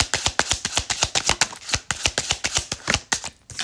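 Tarot cards being shuffled by hand, giving a quick series of crisp, close riffling bursts with short gaps in between.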